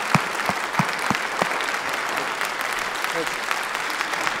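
Loud, dense applause from a gathered audience at a meditation event honoring Ramaraju, sustained throughout with a few sharper individual claps standing out.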